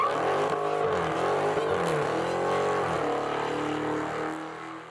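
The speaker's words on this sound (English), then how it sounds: "Fans adore the unmistakable rumble of a V8 engine." Dodge muscle car V8 engine rumbling and revving, a loud throaty roar with rising and falling pitch sweeps, steady and close, easing slightly at the end, with no talking.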